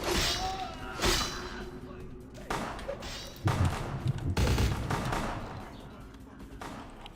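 Bursts of Uzi gunfire in a video game, with several short volleys and thumps spread across the scene at mid distance, loud against a constant game background.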